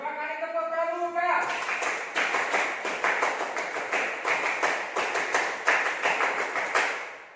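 Scout group clapping in rhythm at a Pramuka training session, a loud close chorus of crisp claps in repeated patterned bursts, led in by a brief spoken call.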